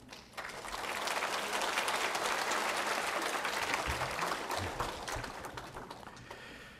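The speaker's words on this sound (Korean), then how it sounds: "큰 박수로 환영해 주시기 바랍니다" A church congregation claps steadily to welcome a pastor, a dense wash of applause that swells quickly, holds, and slowly tapers off.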